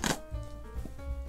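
A kitchen knife chops crushed garlic on a cutting board in a few light, quick taps, with a brief louder knock at the start.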